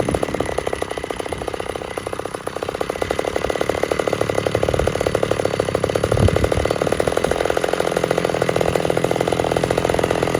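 A ported top-handle chainsaw, a Stihl MS192T or McCulloch Mac 110, runs loud and close at steady high revs for the whole stretch, with a slight rise in pitch partway through.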